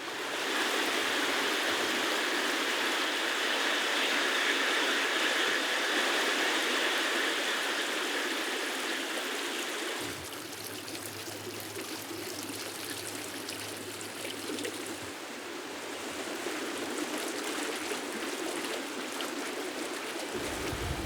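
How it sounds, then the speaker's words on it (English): A waterfall in a memorial garden pours steadily into a cave, a dense, continuous rush of running water that softens and thins partway through, with no talk. "From beneath the waterfall, the sound of running water echoes in the cave."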